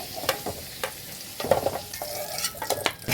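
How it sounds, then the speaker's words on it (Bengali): Potato pieces frying in hot oil in a pan, sizzling steadily while a spatula scrapes and knocks against the metal as they are stirred and lifted out, close, no talk. "আলুগুলো আমার ভাজা হয়ে গেছে"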